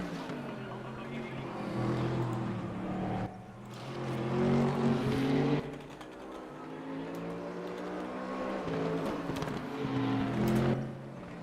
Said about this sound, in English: the Mustang leading the two BMWs